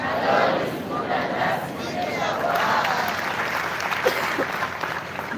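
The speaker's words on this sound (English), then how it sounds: "Now the Lord deserves a better round of applause." A congregation at a church-style gathering applauds with a thick mix of clapping, cheering and crowd voices filling the space, sustained at a fairly even level throughout.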